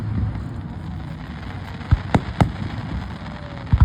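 Fireworks bursting beside a road during a Fourth of July–style celebration: a handful of sharp, booming pops in a quick cluster, then two more near the end over steady outdoor background noise.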